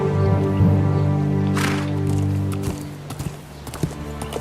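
Horse hooves clip-clopping at a steady pace in the video game Telltale's Game of Thrones, over a loud droning tonal background, with a brief whoosh and a few sharper steps near the end.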